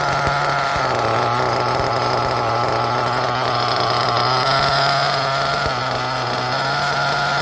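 An LRP ZR.30X nitro RC engine runs on its first fire, a loud, close, buzzing whine that holds steady with slight rises and falls in pitch.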